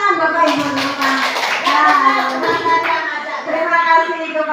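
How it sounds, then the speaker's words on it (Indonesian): An indoor audience of adults claps through a school presentation session, a dense, sustained round of applause with voices talking over it. "Oke, tepuk tangan Bapak Ibu, tepuk tangan."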